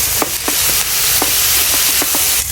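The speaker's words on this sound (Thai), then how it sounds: "เคี่ยวจนน้ำมันเราออกเหมือนเราเจียวกากหมูนั่นแหละ" Pork fat sizzles and crackles loudly in a pan while being rendered into lard, a dense continuous frying hiss punctuated by regular stirring scrapes.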